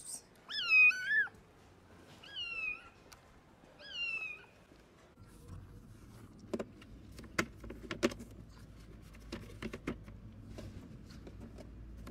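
Young kittens give three clear, high meows in the opening seconds, then fall quiet while soft rustling, handling noises and sharp clicks follow nearby.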